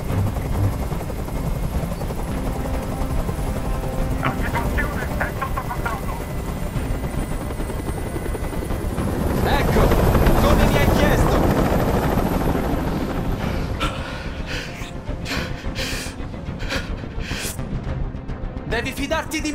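A helicopter hovers in the video game Detroit: Become Human, a loud, continuous thumping rotor roar that swells in the middle, with voices and scattered sharp bursts in the scene around it.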